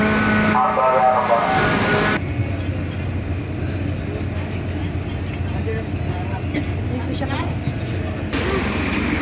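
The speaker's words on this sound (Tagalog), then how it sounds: "lalabas po yung mga sasakyan" Vehicles roll off a ferry at sea, a steady low engine rumble and road noise running throughout, with voices talking over it near the start and end.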